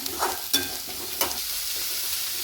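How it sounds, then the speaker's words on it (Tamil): Chopped large onions with ginger and garlic sautéing in a pan for a fish puttu dish, a dense continuous sizzle with a couple of soft scraping stirs, close and alone. "ஒரு 3 பெரிய வெங்காயம் வந்து நல்லா பெருசாக அரிஞ்சு வச்சுருக்கேன், அதையே சேர்த்துக்கலாம். நல்லா வதக்கிக்கலாம்."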